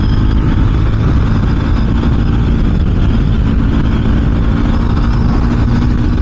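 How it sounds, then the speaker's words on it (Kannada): A motorcycle engine warming up, a steady low rumbling idle heard up close and loud throughout, with no speech. "ನನ್ನ ಬೈಕ್ಗೆ ವಾರ್ಮಪ್ ಕೊಡೋಣ."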